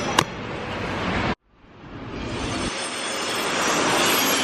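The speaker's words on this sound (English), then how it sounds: "here comes a train" A train arrives at Bratislava station, a loud close roar that cuts off abruptly after a brief sharp clank, then swells again as a broad rushing rumble building steadily.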